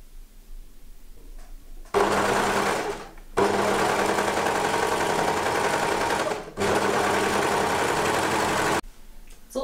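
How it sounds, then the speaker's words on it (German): A sewing machine stitches the sleeve and front panel of a baby wrap jacket together in three loud, steady runs of rapid stitching separated by short pauses, heard close up. "Jetzt wird diese gesteckte Partie vom Ärmel und vom Vorderteil einmal zusammengenäht."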